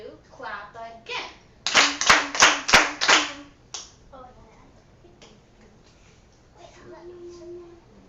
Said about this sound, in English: 1, 2, clap again.